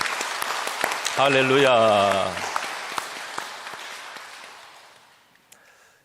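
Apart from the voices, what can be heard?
church congregation applause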